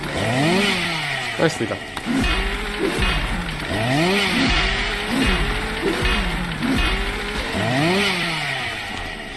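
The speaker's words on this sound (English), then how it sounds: "I think your chainsaw does plenty, actually." A chainsaw weapon in the video game RimWorld revs over and over in a steady cycle of rising and falling engine whines, loud and close, while a voice speaks briefly over it.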